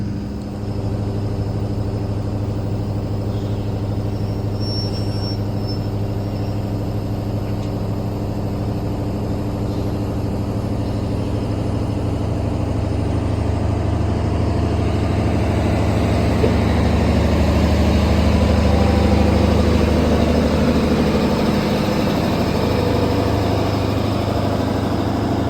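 A brake generator van's engine idles steadily on the Chester Christmas Explorer train, a constant low diesel rumble held at close range with no voices.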